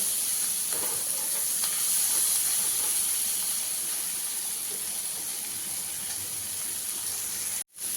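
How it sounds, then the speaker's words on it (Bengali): Masala with kasuri methi frying on full flame, a continuous loud bright hiss and sizzle holding steady for several seconds before a sudden brief cutout near the end. "তারপর এটাকে একটু ফুল ফ্লেমে ভালো করে ভাজা করে নেব"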